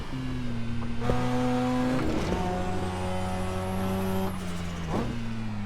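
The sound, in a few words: stock Mazda RX-7 engine at Nurburgring, Assetto Corsa video game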